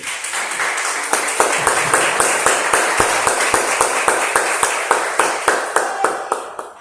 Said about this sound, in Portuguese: Aplaude o Senhor com alegria